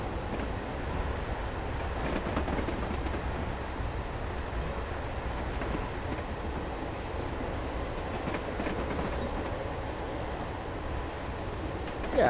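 A train running on the Woodhead Route in the game Train Sim Classic gives a steady, continuous rumble of rolling stock and track noise at an even level throughout, with no voices.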